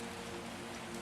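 Gentle rain tapping on windows on a quiet night, a soft, even patter that holds a constant level throughout with no voices.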